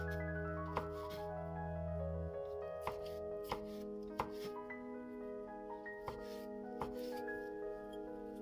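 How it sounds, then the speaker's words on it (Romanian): A knife cuts oyster mushrooms into strips on a board, giving a series of sharp chopping thuds spaced through the clip over a steady low background hum. "Tăiem ciupercile în fușii, așa cum am tăiat burta pentru adevărata ciorbă de burtă."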